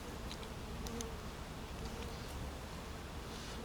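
Honey bees buzzing at an opened hive during an inspection, a dense, constant drone close by, with a few individual bees flying near and away.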